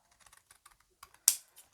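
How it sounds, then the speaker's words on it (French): Large scissors cut along a paper card for a scrapbooking page: a few soft snips, then one sharp, loud cut near the end, with no voices. "vous prenez des grands ciseaux et vous venez longer"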